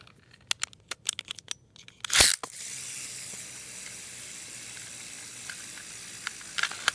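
A Beyblade Phantom Orion with a bearing drive is launched with a sharp ripping burst, then settles into a steady, even hissing whir after a few light mechanical clicks.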